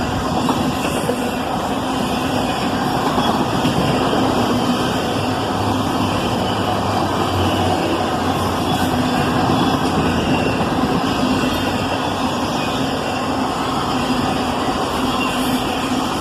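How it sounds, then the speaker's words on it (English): A CSX autorack freight train led by ES44ACH and AC44CW locomotives rolls past, a steady loud rumble of engines and rattling wagons with a constant high ringing tone throughout, no voices. "another autorack train, coming right up behind the first autorack train, led by an ES44ACH and an AC44CW"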